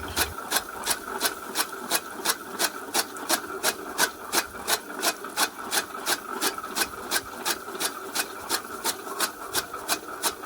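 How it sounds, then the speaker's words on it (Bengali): A chaff cutter machine chops straw with a steady, rapid, regular rhythm of sharp rasping strokes, each blade pass repeating about three times a second, loud and close with no voices. "খড়ও আমাদের কাটা শুরু হয়ে গেছে"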